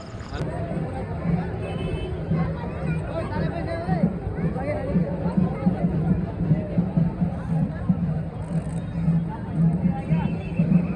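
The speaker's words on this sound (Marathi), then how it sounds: "गर्दी बघा काहीच गर्दी आज खतरनाक" Dense crowd at the Jalgaon chariot festival, a constant babble of many nearby voices and footsteps filling the scene without pause.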